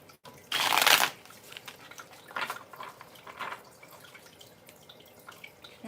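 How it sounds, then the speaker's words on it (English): A single burst of tarot cards being riffled and shuffled, close and crisp, followed by a few softer flicks and taps of cards in a quiet room. "Let me shuffle the deck real quick."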